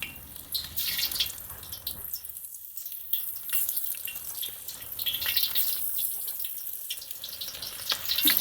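Batter-coated pieces dropped a few at a time into hot oil in a pan for a bacon, egg and cheese burger, loud bright crackling sizzle that runs continuously and close up.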